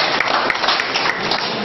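A crowd gives loud, dense applause to welcome guests, eye doctors, at a local event in Madhubani, Bihar. The clapping is a continuous burst with a few sharper claps standing out.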